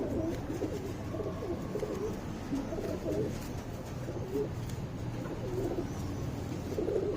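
Pigeons cooing steadily at a loft of tournament birds, soft low coos repeating in overlapping rhythm close by, with no talk.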